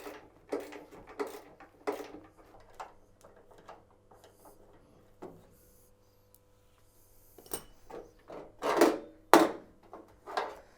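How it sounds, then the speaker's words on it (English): Hand tools work at the door hinges of an Austin Metro under restoration: scattered knocks, clicks and metallic scrapes, irregular and close, with a few louder clanks near the end and no speech. "See if we can maybe get these door hinges off."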